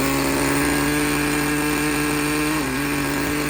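Nitro engine of a used Traxxas T-Maxx 2.5 RC truck, running steadily with a loud, buzzing high-pitched drone close by, the pitch wavering briefly near the end.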